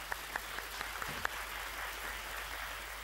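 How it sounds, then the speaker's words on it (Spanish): Studio audience applause on a Spanish TV quiz show, fairly faint and steady, with a few sharper individual claps standing out near the start before settling into an even patter. "¡Un aplauso para Carlos!"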